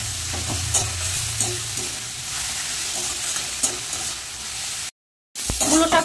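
Radish greens frying in a pan with mustard seeds, dried chilli, turmeric and salt, a steady close sizzle with scraping stirs, briefly cutting out before resuming louder.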